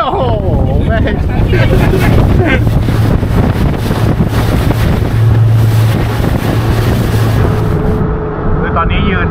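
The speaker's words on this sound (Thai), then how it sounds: "ตอนนี้ยืนไม่ไหวนะครับยืนแล้วเปียกคลื่นใหญ่มาก" Small fishing boat's engine running in strong wind on rough seas with big waves off Chumphor, Thailand, a loud continuous rumble with heavy wind buffeting the microphone and water splashing, fading slightly near the end.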